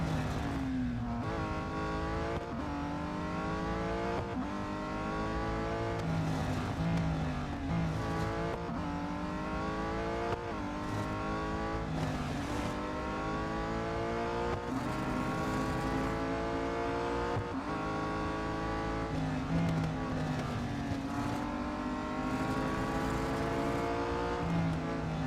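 Race car engines in the mobile racing game Real Racing 3, a continuous loud whine that climbs through the gears again and again with repeated shifts and revving, with no talk over it.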